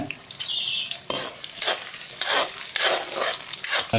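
Dried red chilies sautéing in wood-pressed sesame oil over a medium flame for Chettinad chicken curry, giving a steady close sizzle with repeated stirring scrapes and light utensil clinks throughout, no talking.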